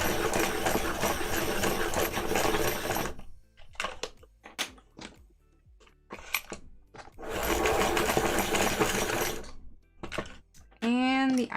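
Pencils are sharpened in two loud, steady grinding bursts of a few seconds each, likely from a machine sharpener, with clicks and light handling noises in between and a brief voice near the end.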